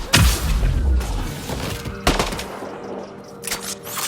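Rapid gunfire and automatic weapon bursts in the sci-fi video game Mass Effect Andromeda, with loud sharp shots, a heavy impact near the start and another around midway, and scattered weapon sounds fading toward the end.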